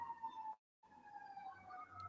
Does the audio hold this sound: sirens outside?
yes